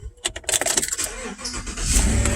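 A 2016 Chevy Silverado LT V8 pickup starts up in a garage during rear brake work: a brief cranking burst settles into a steady, close idle rumble.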